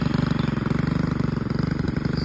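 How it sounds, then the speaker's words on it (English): A weed whacker's small engine runs steadily and close by in a vineyard, a loud buzzing drone with a fast, even pulsing throb and no talking. "Got my weed whacker right there."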